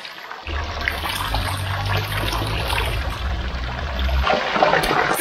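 Water splashing and trickling in a town market fountain, starting abruptly as a close, steady patter and babble of falling water with a low rumbling hum underneath.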